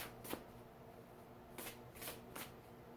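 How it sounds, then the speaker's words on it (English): Tarot cards are riffled in several quick, crisp shuffles up close, separated by short pauses, in an otherwise quiet room. "I'm shuffling the Archangel Power Tarot deck."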